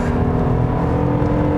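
A 2021 Kia K7 Premiere's 3.0 naturally aspirated V6 GDi engine pulling under acceleration, heard from the cabin as a loud, steady, humming engine note with road noise and no talk.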